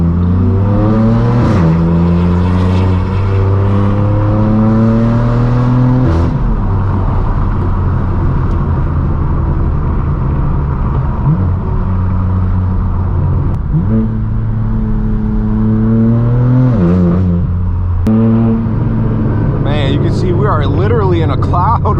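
A straight-piped BMW M4 F82 drives on the road, its loud, deep exhaust droning steadily with repeated rev rises and gear shifts, heard from inside the car while people talk.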